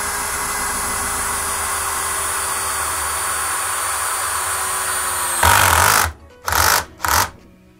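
A Bosch Professional GSB 18V-21 cordless drill drives a 100 mm screw with a loud, steady whirring hum, then a few short, strained bursts as the screw seats.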